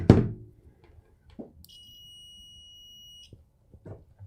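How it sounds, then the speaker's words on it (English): A multimeter set to continuity gives a single steady electronic beep lasting under two seconds, preceded by a soft thump of probes and followed by faint handling clicks. "And I'm going to set it on continuity. Whoop, continuity there. And so we should get a beep."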